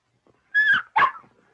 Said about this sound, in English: Do you think this puppy would like to go home with Jimmy and Spot